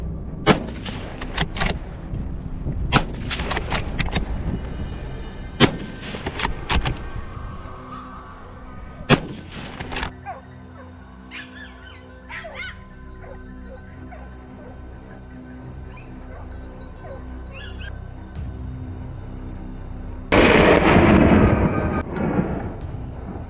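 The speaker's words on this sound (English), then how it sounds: "Gunshots echoed through the forest." Gunshots crack through a forest during a wild boar hunt, several sharp, loud reports spaced unevenly at first, then a quieter stretch with scattered animal cries and rustling, ending in a burst of dense noise.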